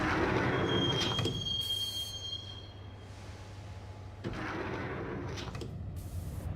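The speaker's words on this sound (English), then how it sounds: "the train doors had already shut behind me, and I was in for the ride" A subway train in the Max Payne video game rattles along with a steady low rumble and a sharp, high wheel squeal. Metallic clunks and hiss come and go, and no one speaks.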